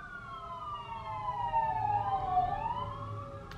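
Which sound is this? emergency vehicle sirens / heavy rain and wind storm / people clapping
emergency vehicle sirens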